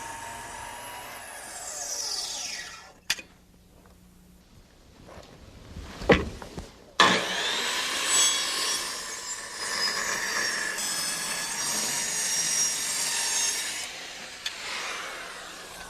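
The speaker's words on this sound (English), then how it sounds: "Now this is a finish cut, so I'm using a sharp blade in my saw." A saw with a sharp blade makes a finish cut through terrace decking wood, a rising whine and rasp that pauses briefly then resumes in a long steady grinding pass.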